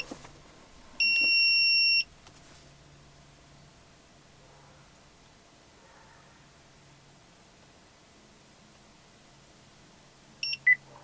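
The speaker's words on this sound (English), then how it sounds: "You'll hear a series of beeps." A GM truck sounds a series of beeps during key fob programming with a plug-in OBD2 programmer: one long steady tone near the start, then quiet cabin hum, then a few short beeps at the end.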